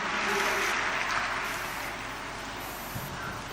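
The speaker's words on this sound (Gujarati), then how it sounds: "ખૂબ તાળીઓના નાદથી વધાવીએ" A crowd gathered at a Gujarati religious discourse applauds to honour a revered woman; the dense, steady clapping starts full and gradually thins and softens toward the end.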